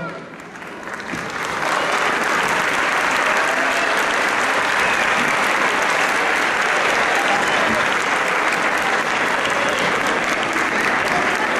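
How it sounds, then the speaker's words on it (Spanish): Loud, sustained audience applause at a farewell choir and dance show, a dense crowd clapping that swells in within the first seconds and holds steady. "un fuerte aplauso."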